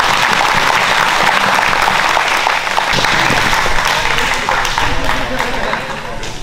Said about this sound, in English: huge round of applause to all you guys.